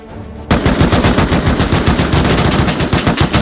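Rapid automatic gunfire from the video game Rust bursts in abruptly and continues as a loud, dense stream of fast, evenly spaced shots close up.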